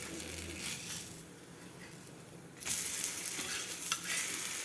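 A ragi onion dosa on a hot pan crackles with a low steady sizzle that quiets briefly, then jumps louder and brighter once the dosa is flipped over to roast on its other side.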